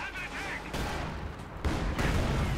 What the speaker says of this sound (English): Looks like I think he actually set off the demo charge